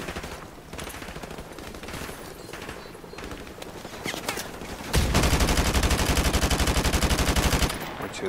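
Rapid automatic gunfire in Call of Duty Modern Warfare Remastered, scattered shots at first, then a loud sustained burst of fast repeated fire for several seconds before easing off.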